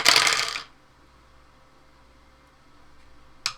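Dice clatter across a table in one quick burst, followed by near silence and a faint final click a few seconds later.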